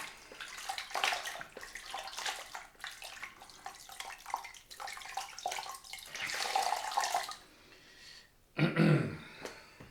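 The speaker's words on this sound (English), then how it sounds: "let's just get some of the lather off my cloth" Running water pours over a lathered shaving cloth at a sink as it is rinsed, splashing and gurgling unevenly with close handling noises and a brief louder gush near the end.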